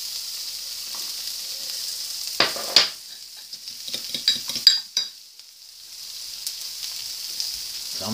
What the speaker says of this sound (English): So just dump the onions in there.